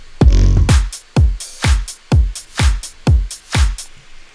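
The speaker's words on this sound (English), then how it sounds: "And then in the second part, we just add in this super simple sort of hat loop." EDM drop from a dance-track remake with a simple hi-hat loop added over kick and percussion, a steady four-on-the-floor pulse with crisp hats, loud and alone.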